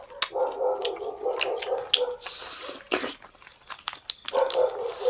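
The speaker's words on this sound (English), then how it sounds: "The dog is barking so much." A dog barks repeatedly in short, fairly loud bursts at moderate distance during a home mukbang meal in Manipur, with scattered clatter between barks and no talking.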